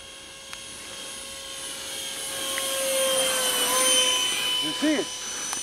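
A high whining jet-like 70mm electric ducted fan engine of a model F-117 jet passes steadily, swelling and fading as it flies by, with faint voices underneath.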